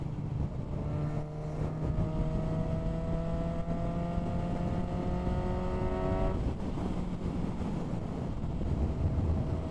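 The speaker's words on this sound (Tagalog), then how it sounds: "So, ganun kabilis pag nasa motor." A Suzuki GSX-S750 motorcycle riding at speed in sixth gear on a highway, its engine droning steadily with a rising pitch that drops after a shift midway, under constant wind rush.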